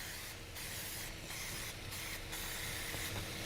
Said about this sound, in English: I'm gonna give this a good spray here.